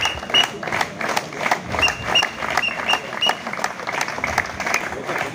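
An audience at a mine safety event clapping, steady rhythmic applause from a crowd with a voice over it.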